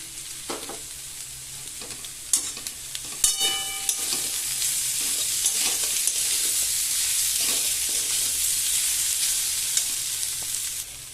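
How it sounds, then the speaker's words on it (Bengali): Ginger garlic paste sizzles in hot oil for a drumstick flower curry, with a steady frying hiss and sharp stirring scrapes and clicks scattered through, close and clear without talk. "এবার আমি আদা রসুনের পেস্টটা দিয়ে দিচ্ছি।"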